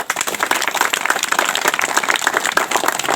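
An audience claps loudly at a public gathering, with rapid, uneven hand claps forming a continuous, energetic burst that lasts the whole moment.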